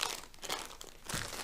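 Plastic Ziploc bag crinkling steadily as a piece of clothing is rolled up inside it to squeeze out air, with louder crackly bursts near the start and end, close and with no talking.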